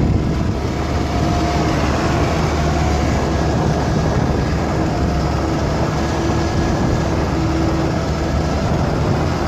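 Garbage truck engine revving hard to run the lift during trash collection, a loud, steady, broadband roar that holds without a break, with no talk over it.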